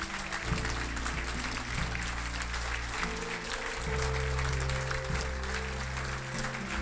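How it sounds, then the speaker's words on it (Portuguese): Continuous applause from a church congregation during a worship service, steady and full, with sustained low instrumental tones playing underneath the clapping. "Vamos aplaudir nosso Deus."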